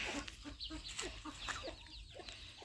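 Laying hens clucking in a chicken coop, a steady scatter of short clucks and murmurs from several birds, fairly quiet and close.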